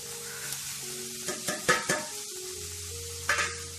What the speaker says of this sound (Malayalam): ഞാനിനി അതിലേക്ക് നമ്മൾ എടുത്ത് വെച്ചിരുന്ന തേങ്ങ ഇട്ട് കൊടുക്കുകയാണ്.